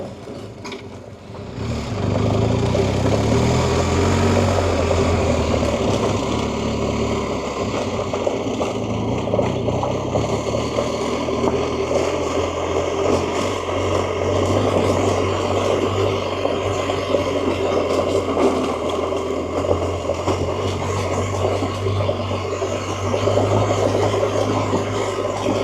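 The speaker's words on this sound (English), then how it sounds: "Listen to the motor purr. RPMs go up and down." A BMW R1250GS Adventure motorcycle engine drones steadily while climbing a rocky trail, its revs rising and falling up close, with wind buffeting and faint rattles of rocks throughout.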